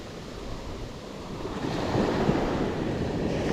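Sea waves wash onto the shore on a rainy day, a steady broadband surf hiss that swells slightly louder midway and carries on continuously, mixed with some wind noise and no voices.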